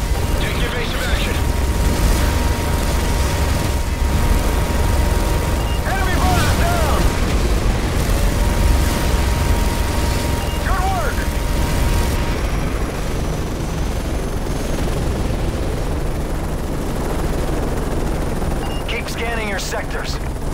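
Dense, continuous heavy gunfire and booming explosions fill a Call of Duty: Modern Warfare 3 battle, loud and relentless throughout, with faint radio-style voices calling out under the din.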